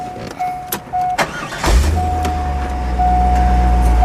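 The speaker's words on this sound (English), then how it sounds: "I'll go ahead and fire it up for you." A stock-exhaust 1998 Chevrolet Corvette Roadster with a cold air intake cranks briefly and catches, then settles into a steady, smooth idle close by. A repeating electronic chime beeps before and during the start.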